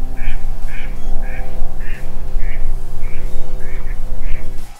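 A duck quacks repeatedly in an even rhythm, about eight loud, close calls over a steady low mechanical hum.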